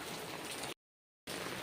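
Rain falls steadily on surfaces as a dense hiss of drops, cut off by a brief half-second of silence before resuming at the same even level.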